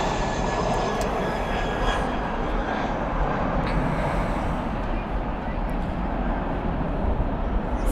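A Volaris Airbus A320 jet airliner roars steadily at Dallas/Fort Worth airport at night, a dense continuous engine rush that stays loud throughout, with a voice faintly present beneath it.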